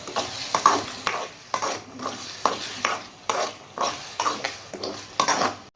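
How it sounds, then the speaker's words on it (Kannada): Tomato paste and salt being stirred into masala in a pan for a vegetable kurma, a loud close spoon scraping against metal in a steady rhythm of strokes roughly every half second. "ರುಚಿಗೆ ತಕ್ಕಷ್ಟು ಉಪ್ಪು ಪೂರದ ಮಿಕ್ಸ್ ಮಾಡ್ಕೊಂಡ್ಬಿಡ್ತೇನೆ"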